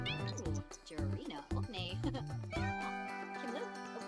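A cat meowing in The Sims 4, a cat wearing a hat, with several short mews under steady game music and people talking over it.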